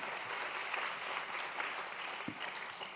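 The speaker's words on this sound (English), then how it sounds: "can we give warm applause to these good people?" Warm applause from a forum audience at a climate change adaptation meeting, a steady, fairly faint wash of clapping that continues evenly throughout, with no talking.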